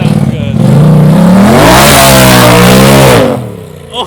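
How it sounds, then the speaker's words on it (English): A Polaris RZR XP Turbo side-by-side with an MBRP exhaust revs hard and very loud up close, its deep engine note climbing and holding before dropping away, with voices briefly around it. "It even sounds good backing up."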